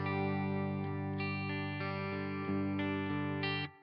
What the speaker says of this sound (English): We've got a bit of reverb too.